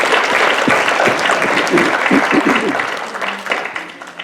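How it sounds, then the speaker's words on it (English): Audience of sisters, teachers, parents and children applauding at a school values program, a loud, dense wash of clapping that holds steady and then thins toward the end, with a few voices mixed in. "Give yourselves a big round of applause."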